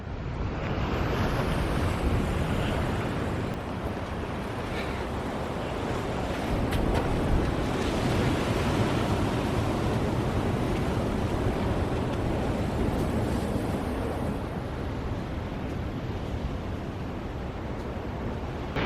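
Ocean waves breaking at Redgate Beach on the Cape to Cape Track in Western Australia, a loud continuous roar of surf mixed with heavy wind buffeting the microphone, swelling slightly midway.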